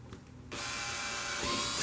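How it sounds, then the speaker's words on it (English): A power drill kicks in abruptly after a quiet moment and runs steadily, a close, loud whirring grind as it bores a hole for a custom speaker pod. "Drill your hole."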